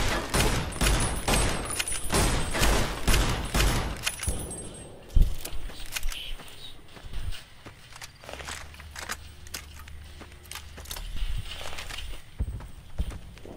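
Rapid bursts of gunfire from Fallout New Vegas in hardcore mode rattle out loudly for the first few seconds, then thin to scattered shots and impacts, with a voice talking in places.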